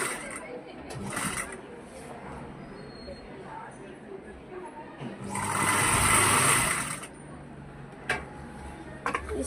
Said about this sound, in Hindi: शोल्डर्स को सिल देंगे इस तरीके से